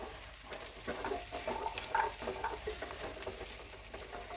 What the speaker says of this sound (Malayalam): ഇനി ഇത് നന്നായി ഒന്ന് ഇളക്കി കൊടുക്കാം